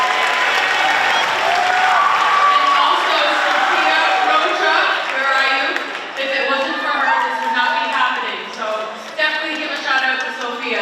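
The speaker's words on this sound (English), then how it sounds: "Give them a round of applause." Sustained crowd applause and cheering for teachers and faculty at a school pep rally, loud and dense throughout, with voices mixed into the clapping.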